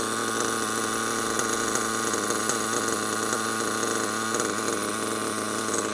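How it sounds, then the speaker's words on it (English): Kyosho USA-1 RC monster truck with a nitro engine idles steadily with its body off. The high, buzzing engine note stays continuous and close for the whole stretch, with no voices over it. "Still idling really good, not dying out."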